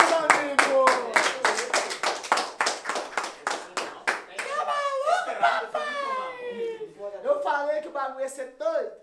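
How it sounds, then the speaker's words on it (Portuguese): A crowd at a Brazilian freestyle rap battle semifinal claps in a quick run of crisp, distinct handclaps for about four seconds, which then gives way to voices calling out over thinner scattered sounds. "Palmas pra esse primeiro round, meus amigos!"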